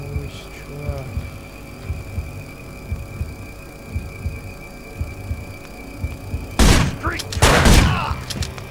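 Gunfire in the Manhunt video game: a pair of loud, sharp blasts near the end, following a stretch of low ambient hum with quiet talking underneath.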